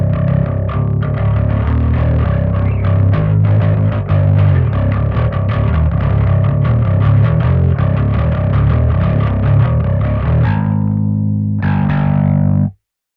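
A bass guitar plays through a Caline overdrive pedal, producing a gritty, dirty distorted tone in a busy run of notes. It ends with a couple of sustained ringing notes before cutting off abruptly.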